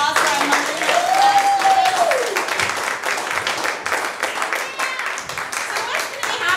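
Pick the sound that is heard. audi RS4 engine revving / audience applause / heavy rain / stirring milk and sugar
audience applause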